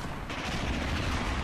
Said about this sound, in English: Who is shooting me over there?